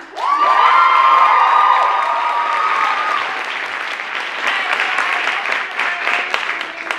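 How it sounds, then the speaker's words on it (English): A college spoken-word poetry event erupts in loud applause and cheering for a poet, with whoops and a shrill rising shout at the start, then sustained clapping from the crowd. "Round of applause for Queen Bee."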